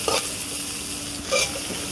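Chopped carrot and garlic sizzle in ghee in a pan over a wood-fired stove, a steady close frying hiss broken by two brief louder scraping stirs, with no talking.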